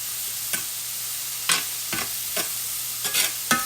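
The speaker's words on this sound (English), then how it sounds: "I've got my weenies in the skillet, and I just like to brown these up." Hot dogs browning in a skillet on a stovetop give a soft continuous sizzle, broken by several sharp scraping stirs at irregular intervals, with no talking.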